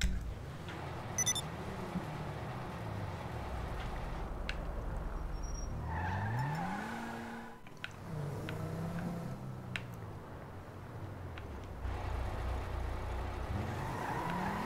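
A Maibatsu Penumbra sports car in GTA Online revs and accelerates, its engine pitch climbing and falling through gear changes, with brief tire squeals and a steady background hum, no talking.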